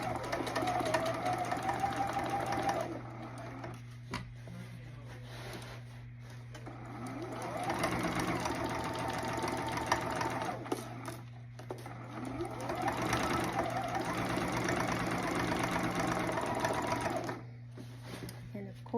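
A sewing machine stitching a bulky denim jacket, running in steady bursts of rapid mechanical whirring with short pauses between, close by, while a person talks throughout.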